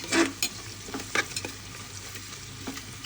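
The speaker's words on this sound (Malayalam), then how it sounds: "നന്നായിട്ടൊന്ന് വഴന്ന് വരുന്നത് വരെ ഇങ്ങനെ ഇളക്കി കൊടുക്കാം" Garlic sautés in a pan with a quiet sizzle underneath, as a spoon stirs it with a few quick scrapes near the start and scattered lighter taps afterward, heard close up.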